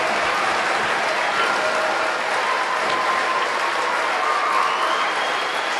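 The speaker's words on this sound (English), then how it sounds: "Big round of applause." A school assembly audience of students and staff bursts into loud, sustained applause that fills the room steadily from start to finish, with crowd noise mixed in.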